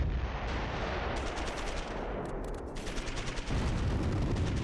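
Mortar and small-arms fire from the WWII strategy game Close Combat III crackles in a dense, continuous barrage of rapid shots and bursts, loud and steady with no voices.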